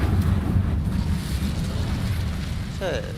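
A fire spell cast in the Hogwarts Legacy video game, a dense rumbling whoosh of flame that stays loud and steady throughout, with a brief bright magical shimmer near the end.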